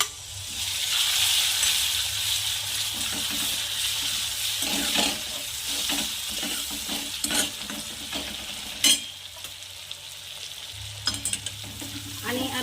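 Finely chopped tomato fries in a hot pan with chilli powder, a loud continuous sizzle broken by repeated scraping strokes of a spoon or spatula stirring the mixture.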